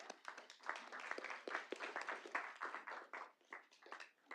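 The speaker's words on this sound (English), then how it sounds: "I want to give our team a round of applause" A small group at a Little Rock city board meeting claps for the community development team, with scattered, individually distinct hand claps, quiet and somewhat distant, rising and falling unevenly throughout.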